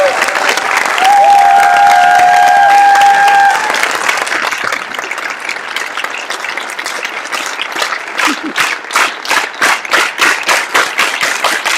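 A round of applause fills a council general assembly hall, dense clapping from a large crowd that thins into distinct, rhythmic claps toward the end.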